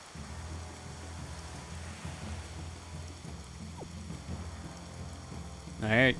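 Rain falls in the Mario & Luigi Brothership video game as a soft, steady wash, with a low rumble under it and a brief louder game sound at the very end.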